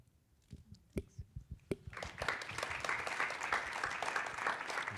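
Audience applause breaks out after a reading at a literary event, starting with a few scattered claps and swelling into steady, dense clapping from a nearby crowd that carries on to the end.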